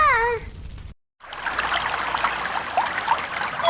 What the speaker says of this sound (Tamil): தண்ணி சத்தம் கேக்கு